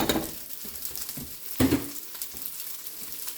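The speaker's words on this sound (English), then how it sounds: "we're going to cook these too, and what we're doing is we're toasting them up a little bit" Lentils toasting in a pan crackle and sizzle while a utensil stirs them, with a louder scrape and clatter midway amid the continuous close frying sound; no one speaks.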